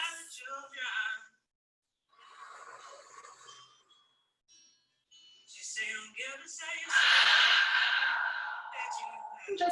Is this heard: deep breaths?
yes